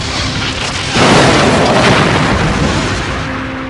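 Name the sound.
Borg cube firing weapons, explosions, from video game Star Trek: Borg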